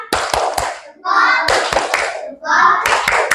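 A group in a classroom does a thumb-clap cheer: short clusters of sharp, close hand claps alternate with chanted young voices in a quick, repeating rhythm.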